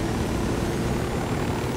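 A helicopter in the video game Ghost Recon Wildlands drones with a steady, dense rotor and engine roar, close and unbroken, with no voices.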